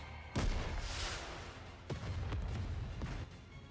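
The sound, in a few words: explosion from rocket launcher in NIKKE video game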